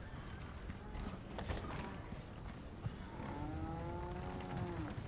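Cows lowing in a Resident Evil game farm area, a long deep moo rising near the end over a busy background of footsteps and clatter, with no voice over it.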